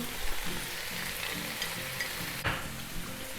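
Carrots go into a frying vegetable noodle stir-fry, bringing a steady close sizzle and crackle throughout with a brief clatter midway, and no talking.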